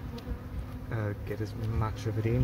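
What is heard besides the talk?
bees buzzing around a hive in the rain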